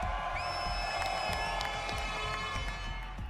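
A large esports crowd at a Counter-Strike 2 grand final cheers and screams in a continuous roar, with sharp claps and whoops poking through the wash of voices.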